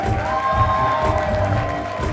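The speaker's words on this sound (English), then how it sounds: "keep your hands going, clap it up. Make some noise for your host tonight, Mel Austin." A comedy show audience cheers and applauds for the host, a dense steady wash of crowd noise with mixed voices throughout.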